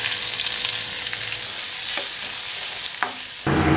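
Green chili, garlic and onion hit hot oil with a loud, steady sizzle, and a few scrapes of stirring cut through the constant crackle of frying.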